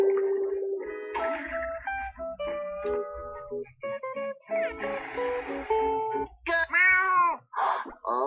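The snail Gary from the SpongeBob SquarePants: Revenge of the Flying Dutchman video game meows like a cat again and again, close and clear, each cry a short, tuneful call with brief gaps between them.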